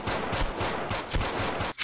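Rapid enemy gunfire in a video game, a loud sustained burst of machine-gun shots with a steady pulsing rhythm that cuts off abruptly near the end.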